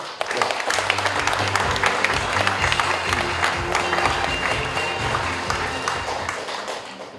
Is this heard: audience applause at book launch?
yes